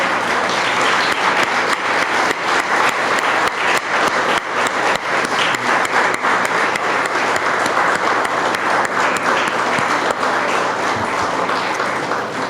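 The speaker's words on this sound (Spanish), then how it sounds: "¿Por qué no le damos un aplauso a los papás?" A church congregation applauds the fathers, steady dense clapping that fills the room at full strength from start to finish with no pause.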